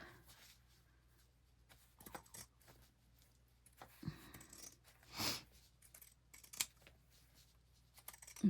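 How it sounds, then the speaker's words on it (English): Scissors snip through a Dollar Tree journal cover in a quiet room, a few sparse, faint cuts and rustles spaced irregularly. "so now I'm gonna come and cut this side"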